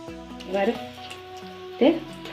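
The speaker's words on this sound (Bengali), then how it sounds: "ফোড়ন দিয়ে দিচ্ছি, 5 ফোড়ন" Five-spice seeds (panch phoron) dropped into hot oil for a Bengali sweet potato and bitter gourd dish give two short sizzling bursts over a steady tonal background, with faint talk.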